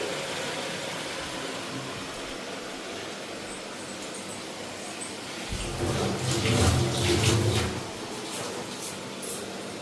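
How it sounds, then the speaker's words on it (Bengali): Fresh coriander leaves washed in water: a steady wash of splashing and running water under low background noise, swelling louder for a couple of seconds partway through; no talking. "ধন্যা পাতা পাতাগুলি ধুয়া নেই"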